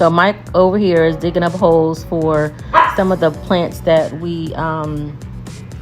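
A dog barks several times in the background of an outdoor patio makeover while someone talks over it about digging holes for plants; the short barks are partly masked by his voice.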